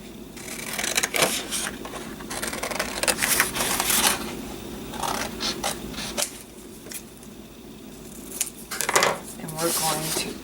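Scissors cut a small paper coffee mug shape out for a handmade card, making irregular crisp snips and paper rustles close up against a light background noise.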